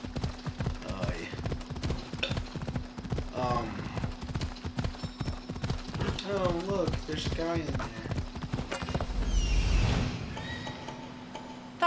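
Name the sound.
horse hooves clip-clopping in video game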